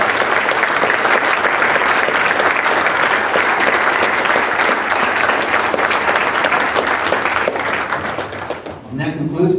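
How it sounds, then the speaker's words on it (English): Luncheon audience gives panelists a loud, sustained round of applause, thick continuous clapping for about nine seconds before it breaks off and a voice begins. "Let's give a round of applause."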